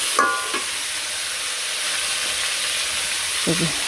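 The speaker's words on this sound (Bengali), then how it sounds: "এখানে আলু আর লাউ গুলো দিয়ে দিলাম, এখন এর সাথে ভাজি নেই।" Potato and bottle gourd pieces fry in a pan, a steady close sizzle with a couple of scraping stirs near the start and end, no talk.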